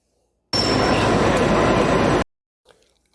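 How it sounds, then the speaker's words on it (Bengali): A steady, loud train roar fills a couple of seconds at an old station in Florence, Italy, then cuts off abruptly, followed by faint station noise. "আর ট্রেনের শব্দ ভালো লাগছে না"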